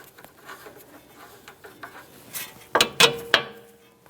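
Ratchet snugging the bottom bolt of a rear strut and spring assembly on a 2015-2024 Jeep Renegade: soft clicking patter followed by three loud, sharp close-up metallic clacks near the end, no talk.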